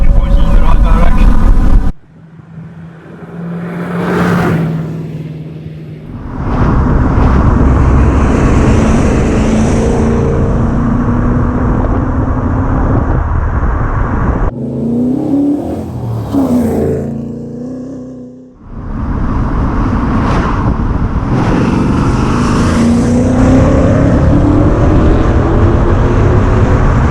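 A 270bhp V8-powered Triumph Toledo accelerates hard with wheelspin, its engine note rising in repeated surges between brief drops, loud and close, with someone talking over much of it.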